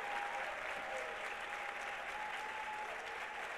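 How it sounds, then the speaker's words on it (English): A conference audience applauds a panel with steady, even clapping at moderate volume throughout, a soft tonal hum underneath. "I want to give the panel a round of applause"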